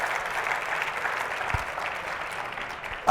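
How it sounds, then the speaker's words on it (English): Audience applause at an evening talk event featuring the governor, a steady wash of clapping from a crowd filling the room for about three seconds. "please clap"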